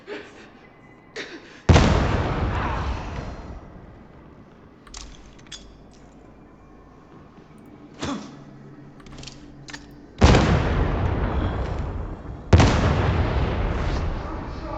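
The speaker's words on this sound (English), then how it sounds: "Grenades can be equipped and thrown." Grenade blasts in a Warhammer 40K video game land as several loud, booming explosions with decaying rumbles, separated by quieter stretches of gameplay sound.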